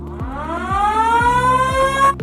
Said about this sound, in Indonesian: Penekanan tombol sirine